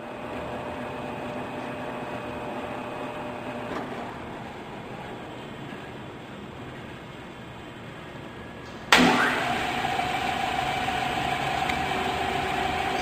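A Hardinge HLV 11 x 18 inch used toolroom lathe with its spindle turning at 200 RPM: a steady, even mechanical hum and whir, close and continuous, with a sudden louder shift near the end.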